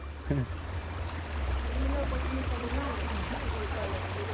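River water flowing steadily at close range, a continuous soft rush and gurgle with a low hum underneath, heard alone throughout.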